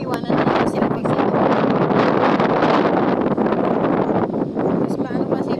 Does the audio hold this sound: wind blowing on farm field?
yes